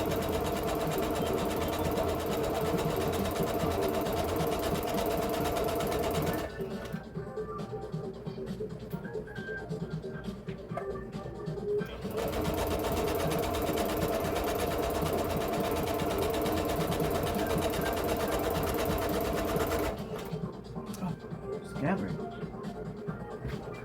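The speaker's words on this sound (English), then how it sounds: "I'll be back after I sew it all the way around" A sewing machine stitches a fleece blanket in long continuous runs, a loud rapid mechanical whir close by, stopping twice for a few seconds of quieter pause before starting again.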